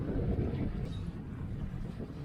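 Wind picking up over a sailboat at sea off Morocco, a steady broadband rush of gusts and water noise filling the short stretch with no voices.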